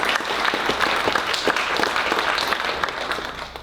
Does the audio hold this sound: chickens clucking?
no